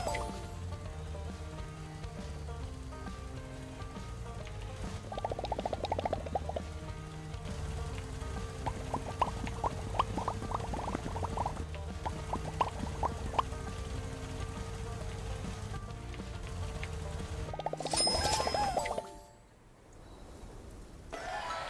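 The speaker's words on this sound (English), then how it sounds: "Rain." Steady rain in the mobile farming game Big Farm: Mobile Harvest patters and hisses throughout, with bursts of brighter tones over it and a sudden drop to quieter rain near the end.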